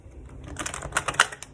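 Tarot cards are shuffled close up, a quick burst of crisp papery clicks and flutters that grows denser and louder toward the end.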